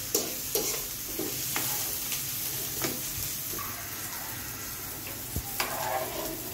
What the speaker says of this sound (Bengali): খিচুড়িটা মাঝে মাঝে নাড়িয়ে দিতে হবে